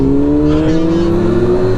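A racing car in a video game closes in with a loud, steady engine drone whose pitch climbs gradually as it nears, continuous for the whole stretch with no talk over it.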